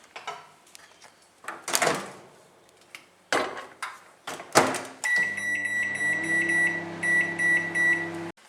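A microwave oven used for cooking vegetable biryani: several sharp door and handling knocks, then a run of bright electronic beeps repeating in quick succession, loud and close.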